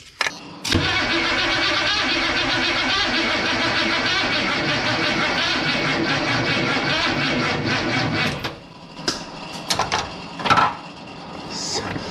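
A truck engine cranking over with the distributor unplugged during a compression test, a loud, fast, even rhythmic churning of the starter that runs for about eight seconds and then stops, followed by quiet clatter and a few brief voices.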